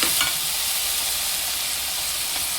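Mixed vegetables with brinjal sauté in a pan for a prawn curry. A constant, bright hissing sizzle stays even and close for the whole stretch, with no talk over it.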